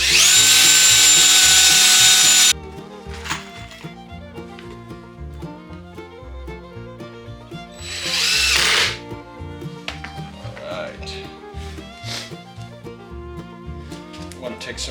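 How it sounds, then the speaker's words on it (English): A large, aggressive carbide saw blade cutting heavy wood while building a log birdhouse, opening with a loud sustained whine for about two seconds, then a second brief burst of cutting midway, with quieter workshop noise between. "It is carbide and it's a big aggressive blade made to cut heavy wood"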